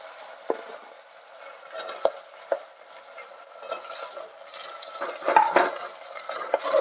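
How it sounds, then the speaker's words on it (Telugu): Onions and green chilies fry with curry leaves in a pan, a soft steady sizzle broken by close clinks and scrapes of stirring that grow busier toward the end. "ఇవి మంచిగా వేగాలి ఉల్లిగడ్డ మిర్చి అన్నీ."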